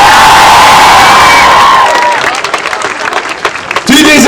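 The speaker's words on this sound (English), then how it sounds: "we need to give a big, massive round of applause for everyone who's here today" A large outdoor crowd at a Palestine solidarity rally in Manchester Piccadilly bursts into loud, sustained applause, cheering and whoops, with shouting voices mixed through the dense clapping.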